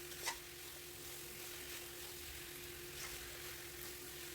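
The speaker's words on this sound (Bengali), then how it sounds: "মাংসটা আমি ভালোভাবে ভেজে নেব" Chicken meat fries with spices in a pan, giving a steady, even sizzle throughout. A brief stirring clink comes near the start, and no one speaks.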